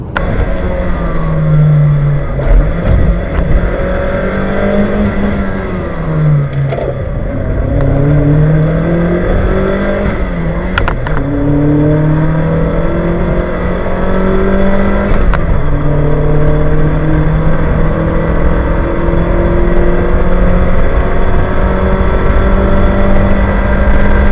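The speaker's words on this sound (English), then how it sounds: "So I wanted to get out and just see what the car is like to drive." A Chevrolet Cruze compact four-door's engine drones steadily throughout, the pitch rising and falling as it accelerates and shifts gears, loud and close from inside the cabin.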